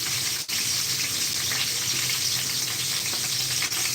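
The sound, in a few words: cooking oil sizzling in a frying pan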